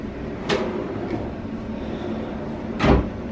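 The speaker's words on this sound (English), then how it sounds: "these are the soft closed drawers" Soft-close drawers on a master bathroom vanity in a resort villa slide shut twice, each a brief muted thud and whoosh rising above a steady room hum.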